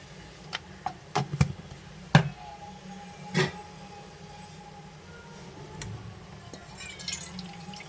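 Raw chicken pieces washed by hand in water with turmeric, giving scattered splashes, sloshes and light knocks, louder early then softer and more continuous.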